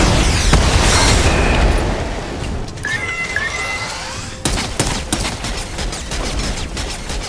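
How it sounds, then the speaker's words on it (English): A rocket ram smashes through a wall in Fortnite, with a loud crashing burst that fades into scattered debris clatter, then a second sharp impact and further rumbling, all without speech. "Use the rocket ram to break through the wall."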